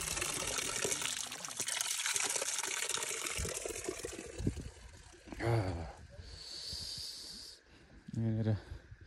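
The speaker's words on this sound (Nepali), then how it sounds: "ढुङ्गे धारा बनाएको रहेछ" Cold water pours from a stone spout along the Mundhum Trail in Bhojpur, making a steady, close hiss of running water throughout, with short bursts of voices breaking in now and then.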